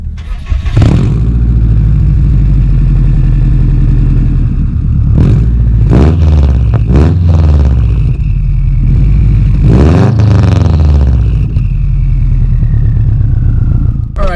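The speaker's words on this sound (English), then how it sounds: "let's start her up and go for a drive" Modified, boosted 2007 Subaru WRX with a built clutch, starting with a key and then idling loudly up close, punctuated by several sharp throttle blips and revs that rise and fall.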